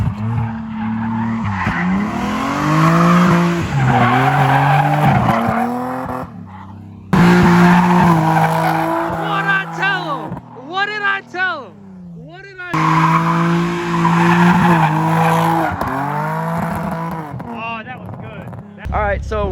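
A Nissan G35 drifting on a drift track, its engine roaring loud and close through rising and falling revs with squealing, skidding tires, broken by brief gaps where the engine note changes.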